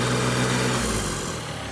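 Turbo and engine of a John Deere 3025E compact tractor, a steady close mid-low drone with harmonic hum that eases slightly toward the end, no talking.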